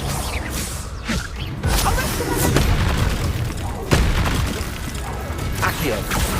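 Confringo blasting spells in Hogwarts Legacy, a series of booming magical explosions and whooshes mixed with combat clatter, with voices speaking over the fight.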